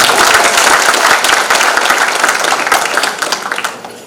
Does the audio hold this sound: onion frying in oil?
no